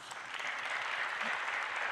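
Faint, steady audience applause at the opening of a national youth assembly, heard from a distance for a couple of seconds.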